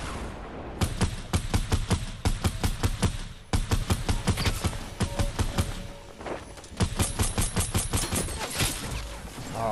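Rapid bursts of gunfire in the video game Fortnite, dense repeated shots in several volleys with short pauses between, loud and close, with no talk over it.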